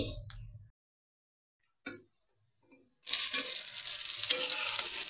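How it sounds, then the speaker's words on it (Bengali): Lentil fritters fry in oil. A couple of brief knocks are followed by quiet, and then from about halfway through a loud, steady sizzle takes over once a batch is turned. "বড়াগুলো ভেজে নিচ্ছি, এক পাট হয়ে গেছে, আর এক পাট উল্টায় দিলাম।"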